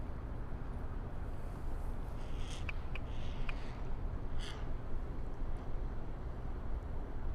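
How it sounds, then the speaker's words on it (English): Harsh calls of fighting cranes ring out in a few short bursts over a loud, constant rush of wind or water noise, beside a railway line. "The cranes are fighting with each other."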